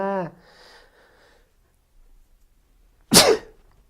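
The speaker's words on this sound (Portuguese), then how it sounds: "desculpe, mas eu espirrei" A single sharp sneeze bursts out suddenly after a short spoken sound and a quiet pause, close and loud, standing alone.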